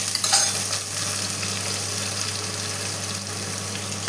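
Finely chopped onions sizzle and sauté in hot oil for a Chettinad-style mutton gravy, with a steady close crackling fry and occasional stirring scrapes.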